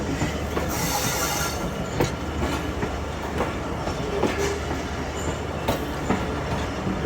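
Carriages of the Bolan Mail passenger train rattle and clatter loudly over badly disturbed track at very low speed, a continuous dense rumble with irregular metallic knocks and occasional squeals, heard from inside the train without talk.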